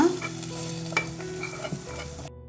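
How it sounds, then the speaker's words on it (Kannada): A garlic tempering is poured into cooked greens and sizzles, a short hissing frying sound with a sharp spit partway through before cutting off abruptly. "ಬೆಳ್ಳುಳ್ಳಿ ಒಗ್ಗರಣೆನ ಈ ಸೊಪ್ಪದೊಳಗಡೆ ಹಾಕೊಳ್ಳೋಣ"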